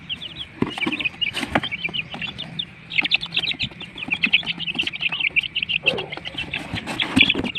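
Native darag chickens cluck and chirp continuously at close range, a busy overlapping chatter of several birds with occasional louder squawks, at a pick-up point in Tagum City.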